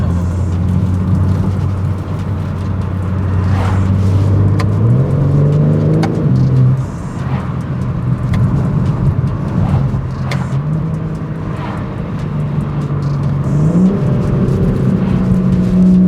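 A 2021 BMW M4 Competition engine drones steadily while driving, its pitch rising and dropping through gear changes, loud and close throughout, with few exhaust cracks and pops on downshifts.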